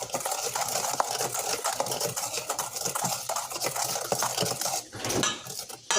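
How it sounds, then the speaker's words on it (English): Sugar and eggs for a pumpkin cake are whisked in a bowl, giving a fast, steady clatter of utensil against the bowl with no talk. "just mix it really good, the sugar and the eggs, until it's well combined"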